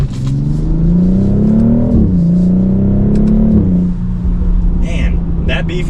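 A BMW X3 M50 SUV with a B58 engine accelerates hard, its loud rising engine note climbing through two gear pulls with a brief shift dip, then easing off; heard from inside the cabin with speech throughout.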